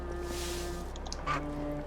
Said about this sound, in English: There's a goose.